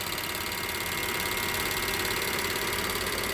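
A running diesel engine in a vehicle, with its covered high pressure fuel pump ticking loudly, makes a steady mechanical clatter with a bright hiss on top, close and continuous, with no speech.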